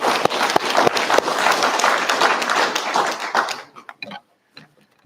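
An audience at a book launch gives Mr. Clark a dense round of clapping that lasts several seconds, then thins to a few scattered claps and falls quiet.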